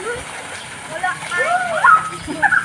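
Water from an outdoor shower splashes steadily at a resort pool, mixed with children's voices and chatter close by.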